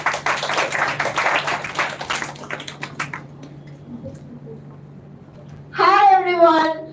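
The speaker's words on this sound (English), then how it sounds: "Let's give her a big round of applause." An audience at a children's literature festival theatre event claps for a storyteller, a dense burst of applause that thins out over about three seconds, followed by quiet and then a voice speaking.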